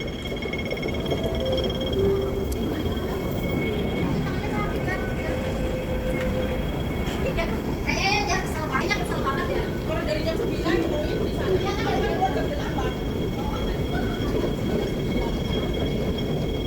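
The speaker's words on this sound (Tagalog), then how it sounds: "Waiting na ng train." A train pulling into a station while someone waits on the platform, a steady loud rumble filling the whole stretch with faint wheel squeals near the middle, under occasional talk.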